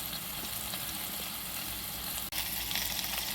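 Food searing in a hot pan, a steady close sizzle throughout with one brief cut of near-silence, no talk.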